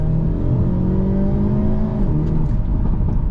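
A 2025 Hyundai Elantra N with its dual-clutch transmission and NGS engaged holds a loud, close engine rev with a steady throaty drone. The pitch climbs slightly, then dips and settles near the end.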